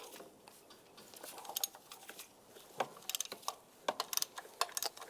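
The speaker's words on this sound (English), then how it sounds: "Now taking a 16mm socket, we can access the bolt for this mount." A ratchet fitted with a 16mm socket works a mount bolt loose on a 1999-2005 Volkswagen Jetta during water pump replacement, giving faint bursts of quick metallic clicks in short irregular runs.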